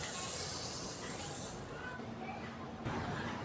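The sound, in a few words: split mustard seeds sizzling in hot oil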